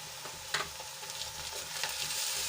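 Onion with a spoonful of ginger, garlic and chili paste sautéing in hot oil, a steady sizzle with a few sharper scraping stirs of a spoon in the pan, close and clear with no talk.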